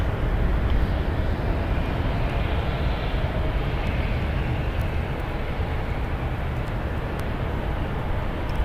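A SkyWest Airlines jet flying as United Express departs San Francisco International Airport from runway 28 left, producing a broad, steady rumbling roar that stays constant and fairly loud from start to finish.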